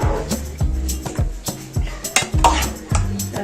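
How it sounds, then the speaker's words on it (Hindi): A metal spoon stirs carrot rice pudding (gajar kheer) in a cooking pot, clanking and scraping against the sides in a quick, steady rhythm of close, sharp knocks. "एक दफ़ा हम ज़ोरों से चम्मच हिला लेंगे"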